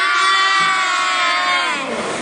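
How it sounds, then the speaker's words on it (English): A crowd of children shout and cheer loudly together in a sustained, high burst that tails off toward the end, with claps buried in the noise. "Clap for her."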